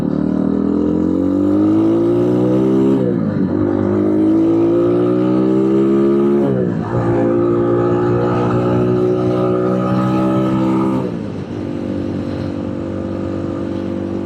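A cheap street-legal 250cc dirt bike accelerates in loud, close bursts, its engine note climbing through several gear shifts before easing off near the end.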